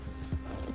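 A single horse's hoof thuds in Red Dead Redemption 2, a brief heavy footfall over a steady game background hum.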